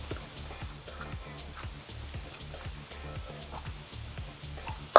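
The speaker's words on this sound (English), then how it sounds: "I'm just searing the steak" A tomahawk steak sears on a grill beside the fire, a steady low sizzle and crackle with a faint regular ticking, moderately quiet throughout, ending in a short louder knock.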